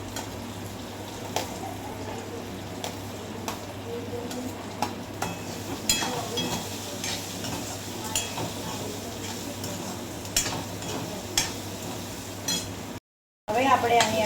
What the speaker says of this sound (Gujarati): એને આપણે ગોલ્ડન બ્રાઉન થાય ત્યાં સુધી આપણે એને સાતળવાના છીએ.